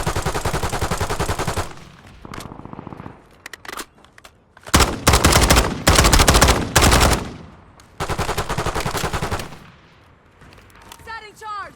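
Rapid automatic gunfire bursts from Call of Duty Warzone on Rebirth Island, loud and close, coming in several separated volleys with brief pauses, plus some game sound effects near the end.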